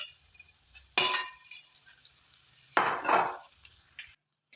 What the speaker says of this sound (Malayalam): വേറൊരു പാത്രത്തോട്ട് കോരി മാറ്റാം.